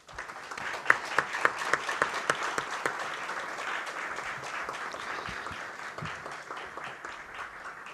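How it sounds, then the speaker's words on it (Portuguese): An audience at a philosophy café in São Paulo breaks into applause, a few sharp individual claps at first, then blending into a steady, moderately distant patter of many hands that carries on without pause. "stamos aqui com o professor Marcos Casanova, a quem eu peço aplausos iniciais."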